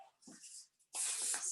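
Hairspray hisses onto teased bridal hair in two bursts, a short softer spray followed by a longer, louder, steady blast close by.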